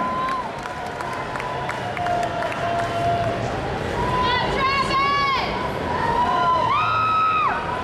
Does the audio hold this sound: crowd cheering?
yes